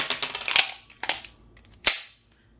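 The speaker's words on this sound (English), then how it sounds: "So, rack to rear, lock," A pistol slide loaded with dummy training rounds being racked to the rear and locked: a few sharp metallic clacks, close and loud, separated by short pauses, with no talk over them.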